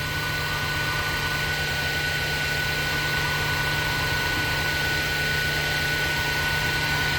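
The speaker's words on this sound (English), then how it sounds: "I'm on ending line. Hitting about 821 on that RPM." In an engine machine shop, a machine runs at about 821 RPM, giving a loud, steady drone with a constant hum and broad noise and no pauses or changes throughout.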